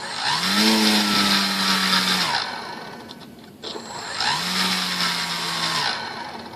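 An electric motor on a Hobbyking Sunbird 1.6m RC glider, upgraded with a new motor and ESC and running on a weak battery, whines loudly in two runs. Each rises and sags unevenly, then cuts out briefly before spinning up again.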